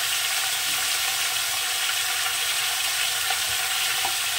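Prawn and vegetable stalk curry with salt and turmeric frying in a pan, a dense, steady loud sizzle throughout with faint stirring ticks, no speech.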